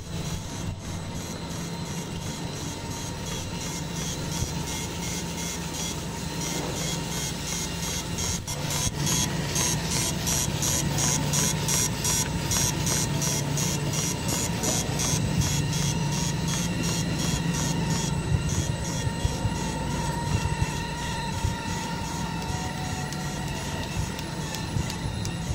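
A JH650 folder gluer runs continuously while making cosmetic boxes, giving a dense, steady industrial clatter and hum with rapid repetitive ticking and rolling mechanical noise throughout, without speech.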